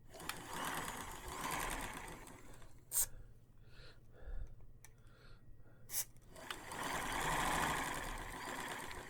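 An old Kenmore sewing machine running in loud whirring spells with a steady mechanical chatter, stopping for a quieter stretch with a few clicks and knocks, then starting up again, close by.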